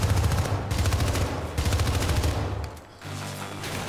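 Rapid automatic gunfire from the video game Syndicate rattles in loud, dense bursts that drop off briefly near the end before a lower rumble continues.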